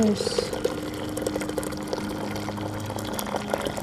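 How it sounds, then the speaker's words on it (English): Near-boiling water poured over tea leaves, a steady close trickling and splashing stream running throughout, with a person speaking softly over it. "Putting boiling water, not as boiling"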